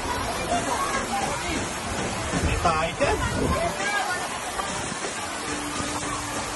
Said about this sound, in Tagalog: Dito tuluyan na ang gumagasa ang malakas na agos ng tubig.